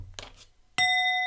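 A handbell is rung once after a soft thump, leaving a clear metallic ring with bright sustained overtones that hangs on to the end.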